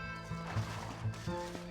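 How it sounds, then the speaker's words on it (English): Horse sounds in the video game Red Dead Redemption: a whinny with snorts and a few hoof clip-clops over a low tonal game background, moderately loud and without speech. "Mount a horse."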